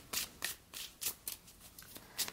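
Tarot cards being shuffled for a reading, a series of short crisp riffling bursts in an irregular rhythm, close and fairly quiet with soft pauses between.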